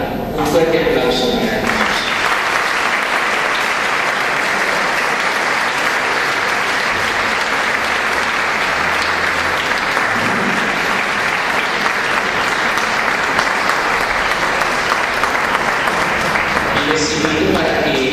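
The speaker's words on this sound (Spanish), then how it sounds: "Un fuerte aplauso." Sustained, loud applause from a crowd at a Christmas carol concert given by a choir, continuous and even throughout, with a voice briefly audible at the start and again at the end.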